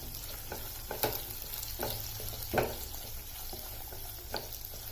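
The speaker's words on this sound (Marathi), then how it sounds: "त्यात टाकूया आपण या हिरव्या मिरच्या ज्या चिरून ठेवल्या होत्या मिरच्या पण थोड्याशा परतवून घ्यायच्या" Chopped green chillies and coriander sautéed in a pan for a spicy curd-chilli fry: a steady soft sizzle with a few sharp spoon scrapes and taps against the pan, close and moderately loud, with no talking.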